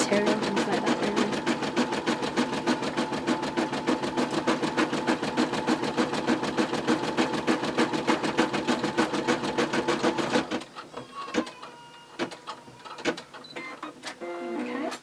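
A Brother M320e embroidery machine stitches a design onto a T-shirt with a loud, steady, rapid mechanical chatter. Near the end the chatter drops to quieter, irregular clicks and thumps.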